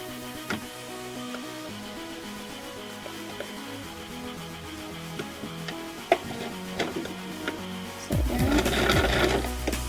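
A sewing machine stitches elastic onto a heart cut-out shirt with short runs of fast mechanical whirring and ticking, ending in a louder sustained burst of stitching.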